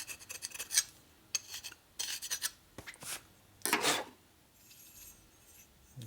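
Metal tool scraping dirt off a part from a 1976 Harley-Davidson Shovelhead 4-speed transmission, heard as close, rasping strokes in irregular bursts with pauses between, followed by faint clinks.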